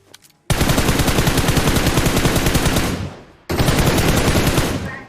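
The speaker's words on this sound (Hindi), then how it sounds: "अपार्टमेंट से हम पे फायर हो रहा था।" Automatic rifle fire in PUBG Mobile, two long loud sustained bursts of rapid shots separated by a short pause, close and dominant.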